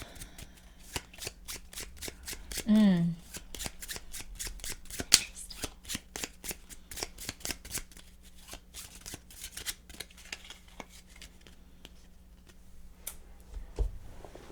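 Playing cards being shuffled on a table during a game of Tapestry, a run of quick crisp riffling taps close up, with faint soft handling noises and almost no talk.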